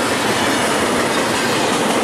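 An eastbound train passes close by with a loud, steady rumble and rushing rail noise that holds constant throughout the short stretch.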